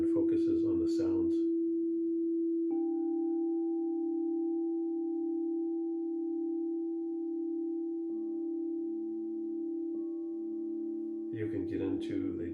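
Crystal Tones Alchemy crystal singing bowls ring in long, pure sustained tones. A second, higher tone joins the first, and a third faint tone enters later, all layered and steady at moderate volume. Brief speech comes at the very start and again at the end.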